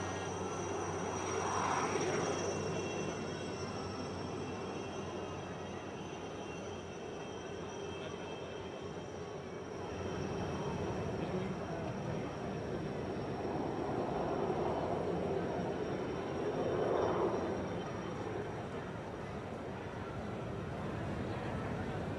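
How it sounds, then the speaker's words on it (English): Steady engine drone with rising and falling swells as four helicopters pass overhead in a synchronized flypast at Mauritius National Day celebrations, a continuous loud rumble throughout with no talk. "Watching all as four helicopters execute this synchronized tribute"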